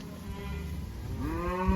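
A cow in a tightly grazed mob on a pond dam gives a single low, rising moo close by, with other cattle sounds underneath.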